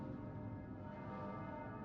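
A bell rings in the video game Persona 3 Reload, a faint sustained tone with layered ringing harmonics that holds steadily without a clear strike.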